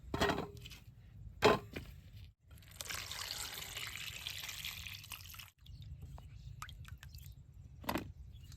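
Tap water runs over peeled, sliced pumpkin pieces being washed by hand, a steady splashing stream lasting a few seconds, with clattering handling knocks before and after.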